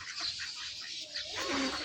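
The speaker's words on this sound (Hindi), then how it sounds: "मुर्गे 2 यहाँ हैं, बाकी खुली हुई हैं सारी मुर्गे मुर्गियाँ" Free-ranging village chickens and roosters clucking in short, overlapping calls, close and moderately loud against faint outdoor background.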